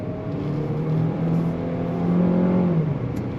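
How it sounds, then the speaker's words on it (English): A 2026 GMC Terrain Denali's Ecotec four-cylinder turbo engine pulls hard under throttle, a steady buzzy drone rising in pitch as it accelerates, heard from the cabin, loud and continuous, with a light whir beneath and no talking. "The engine is a little on the buzzy side, as is most 4-cylinder turbos"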